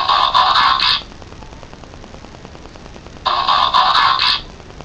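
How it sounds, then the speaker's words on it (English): A mobile phone message alert sounds twice, each a bright electronic chime burst lasting about a second, separated by a few seconds of quiet room hiss, close and fairly loud with no talking. "That's just my phone going off."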